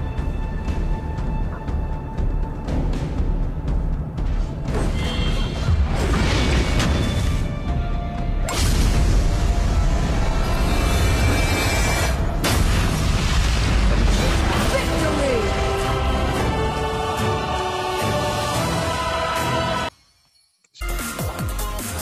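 Tower destroyed in the Arena of Valor mobile game: a dense, loud crashing boom and mechanical clatter layered over game music and effects for most of the span, ending with a brief drop to near silence.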